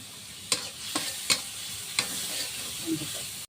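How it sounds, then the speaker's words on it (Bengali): Masala paste sizzles quietly in a pan for a fish curry while a spoon stirs it in a few sharp scraping strokes, close and without talk. "এই মশলাটা একটু 2 মিনিটের মতন কষিয়ে নেব"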